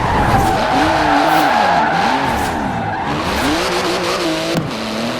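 Tires skid and squeal as a race car engine roars in Forza Horizon 4, a 3.8-litre twin-turbo flat-six with 700 horsepower built of carbon fibre, loud and continuous with a sharp screech near the end and no talk.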